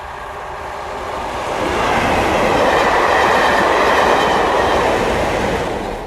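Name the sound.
train hauled by English Electric Class 37 diesel locomotives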